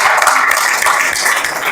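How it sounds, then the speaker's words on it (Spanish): An audience at a gathering in Madrid breaks into steady, dense applause, many hands clapping together at an even level throughout without pause. "Vamos a dar un aplauso a Nacho Matilla"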